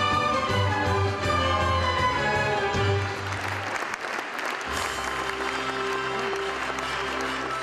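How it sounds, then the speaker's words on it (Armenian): A concert audience at the closing event of an Armenian benevolent union assembly applauds ballet artists, a soloist and an orchestra. Sustained dense clapping fills the hall, loud and steady, with music playing beneath it. "Հայկական Բարեգործական Ընդհանուր Միության պատվիրակները ծափահարեցին բալետի արտիստներին"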